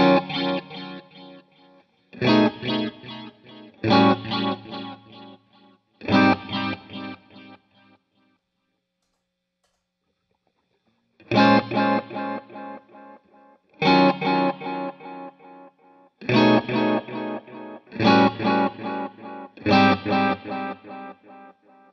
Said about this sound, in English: I'm just gonna play the two delays and we're gonna go back and forth just so you can hear them.